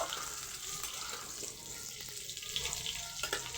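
Potato pieces fry in hot oil with salt in a pan for a shrimp curry, giving a steady soft sizzle with faint crackles and no talking.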